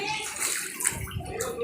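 Rainwater floods an area during a heavy afternoon downpour, running in a faint, continuous rushing gurgle like a small river, with a voice in the background.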